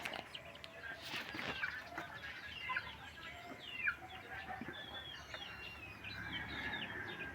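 Chickens cluck in short, scattered bursts at moderate distance, with a few higher squawks over a quiet outdoor background.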